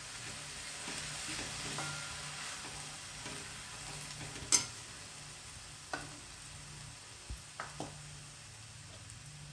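A thick chili mixture with coarse chutney fries in a pan as it is stirred, giving a steady soft sizzle with scattered scraping clicks and a few sharp utensil taps, moderately close and without talk.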